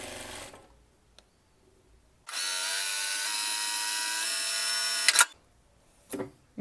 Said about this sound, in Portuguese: E aí eu só tô apoiando aqui o tecido, conduzindo ele e vou costurando.